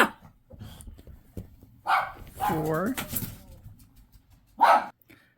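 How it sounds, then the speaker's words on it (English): Dogs bark in a few short bursts, one yelping up and down, between stretches of quiet, with a brief spoken word in the middle. "they're barking at air"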